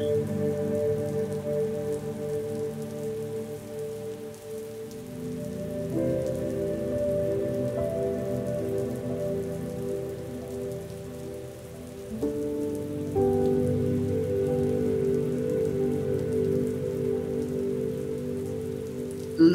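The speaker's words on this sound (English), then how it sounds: "As the rain falls" Steady rain falls in a continuous soft patter, with a low sustained tonal drone beneath that shifts twice; no voices, constant moderate level throughout.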